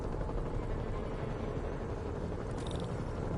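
Helicopters fly over a city in the Marvel's Spider-Man video game, making a steady, dense rotor drone that stays level throughout, with no talk over it.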